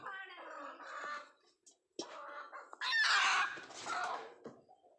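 Village hens cluck and squawk in uneven bursts close by, with one loud, agitated outburst partway through and a person talking among them.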